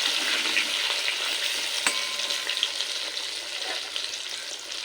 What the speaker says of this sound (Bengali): লবণ হলুদ দিয়ে আলুটা একটু লাল করে ভেজে নিই